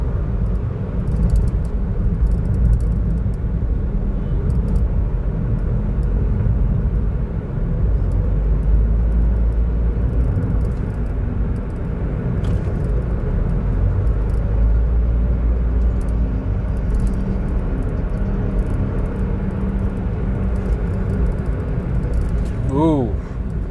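Interior road noise inside a Nissan Micra with a CVT automatic gearbox on a long drive, a steady low rumble of engine and tyres filling the cabin for the whole stretch, with someone talking over it.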